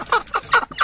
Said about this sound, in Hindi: तो भाई देख सकते हैं देसी मुर्गा है, इतने बड़े बड़े हो गए हैं